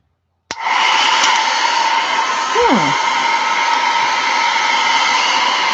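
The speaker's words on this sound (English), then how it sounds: "Hair dryer" A hair dryer switches on with a click and blows steadily, loud and close, a constant whooshing whine that continues without pause.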